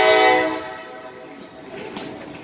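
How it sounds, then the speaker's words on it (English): A freight train hauling cargo near Fort Bragg sounds a loud, close horn blast that fades into the rumble of the passing cars. "here we have a train going by hauling some stuff either to or from Bragg"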